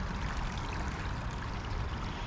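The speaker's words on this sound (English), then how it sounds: "A little trickling water over here." Water trickles and babbles steadily in a small stream in the Staten Island Greenbelt, a continuous gentle rush with no voices.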